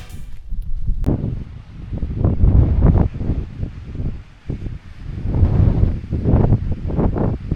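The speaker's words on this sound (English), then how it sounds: "I hope they don't stop the tramway because of the wind." Strong mountain wind in the Sandia Mountains buffets the microphone in loud, rumbling gusts that swell and ease continuously throughout.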